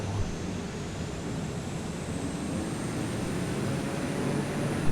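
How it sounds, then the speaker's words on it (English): A TBM 930 single-engine turboprop aircraft runs at full power on a World War II-era runway, a loud, steady broadband engine roar with airflow noise holding constant throughout, with no voices. "Full power. TBM930."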